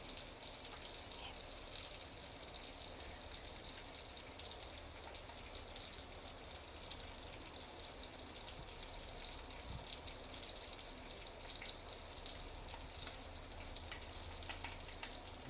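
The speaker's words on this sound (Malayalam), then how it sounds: "നല്ലതുപോലെ കടുക് പൊട്ടണം, കടുക് ഉലുവയും." Mustard seeds and fenugreek splutter in hot oil in a pot over a low flame for a fish curry, a quiet, steady crackle and sizzle with no talk.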